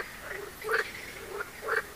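Frogs croaking at night beside a carp fishing pond, a few short grating calls in a loose rhythm, moderately close with quiet still air between them.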